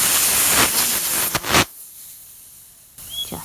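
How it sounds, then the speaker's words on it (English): Broad hissing rush of compressed air escaping from a leaking air compressor pressure regulator with a broken cap, loud and close for over a second, then cut off, followed by a softer, brief burst of hiss. "when I release it, you'll hear all the air coming out"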